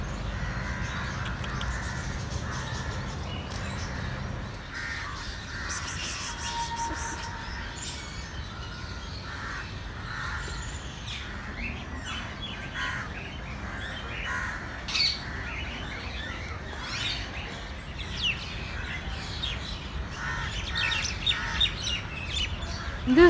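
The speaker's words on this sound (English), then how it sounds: "In this zoo there are like literally many types of birds" Several birds at Kankaria Zoo in Ahmedabad squawk, caw and chirp through a busy outdoor ambience, with crow-like calls and scattered tweets repeating at moderate distance over a steady background hum.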